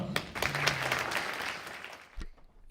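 A school audience applauds students and teachers after an arts project presentation, a short, fairly soft burst of clapping with faint voices that fades out within a few seconds.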